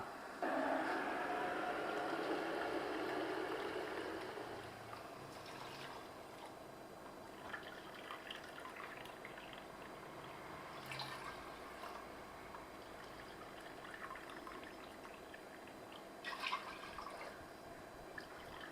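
Water is poured into a cooking pot of rice for Tamil-style ghee rice: a loud splashing pour for about four seconds, then quieter kitchen noise with occasional clinks.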